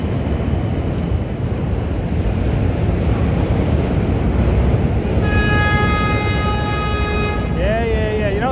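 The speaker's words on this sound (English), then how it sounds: "I don't know why they honking horns" Horns blare in New York City rush-hour traffic heard from a bike, a loud sustained horn blast rising over heavy wind rumble and street noise before sliding and wavering at the end.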